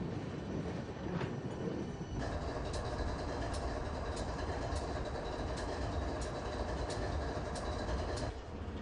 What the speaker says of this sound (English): 3 engines sitting in your backyard, you know, nobody wants to listen to that 24 hours of the day